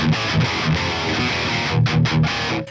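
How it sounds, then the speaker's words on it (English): Electric guitar played through the Bogren Digital OVD2 overdrive plugin in Brown Sugar mode, thick distorted chugging with a few palm-muted stabs, then a sustained ringing chord before the notes cut off. "The Brown Sugar is activated by default and sounds like so."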